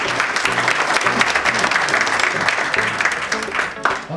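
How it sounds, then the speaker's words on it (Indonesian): An audience gives a sustained round of applause at an office inauguration ceremony in Bagansiapiapi, dense clapping that holds steady and loud throughout before thinning slightly at the end. "kita beri aplaus untuk kita semua"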